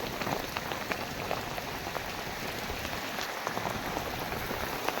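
Heavy rain falls without pause, a thick, even wash of drops pattering on nearby surfaces, steady and fairly loud with no talking.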